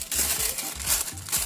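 Crinkly craft paper being crumpled by hand for a bird decoration, a short burst of close, dry crackling rustles in quick bunches.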